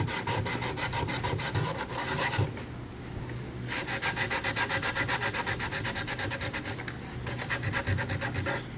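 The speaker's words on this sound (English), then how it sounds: "So I just took some sandpaper and just sort of scraped it a little." Sandpaper scrapes steadily over wood to rough up a dried Mod Podge sealer coat, a loud, continuous rhythmic rasping in quick back-and-forth strokes, broken by one short pause.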